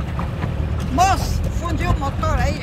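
A boat motor drones steadily on the water near Praia do Sono in Paraty, Brazil, a continuous low hum with people talking over it.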